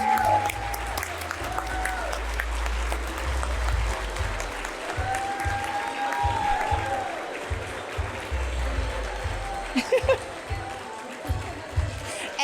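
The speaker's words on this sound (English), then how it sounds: "let's give these amazing individuals a round of applause" A gala dinner audience claps at an anniversary celebration, a broad wash of applause with some crowd murmur, holding steady then thinning toward the end as a voice briefly comes through.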